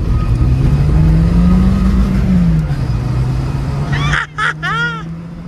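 A Renault Clio with a Lotse sport steering wheel is driven along, the engine humming steadily inside the cabin and rising and falling in pitch, with a few brief chirping squeaks near the end.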